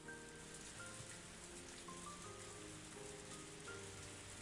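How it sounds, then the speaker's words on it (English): Heavy rain in Higurashi: When They Cry, a soft continuous patter of raindrops hitting scrap with faint tonal music underneath, no voices. "I listened to the soothing sounds of raindrops hitting the scrap"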